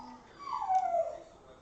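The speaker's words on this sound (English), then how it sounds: "Oh, the howls. The howls." A puppy in a crate lets out a drawn-out whimpering howl that rises and then trails off, moderately loud and alone.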